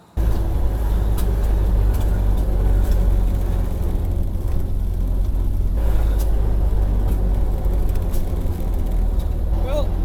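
A Model A car driven with its air filter removed, a loud continuous low engine drone and road rumble heard from inside, steady for the whole stretch without breaks.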